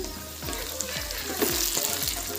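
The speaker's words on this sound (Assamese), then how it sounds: "কেৰাহী বহাই দিছোঁ পুৰিবৰ কাৰণে" Puri made from wheat dough fries in a wok of oil in a village kitchen, giving a continuous close sizzle with soft bubbling and a few stirring sounds.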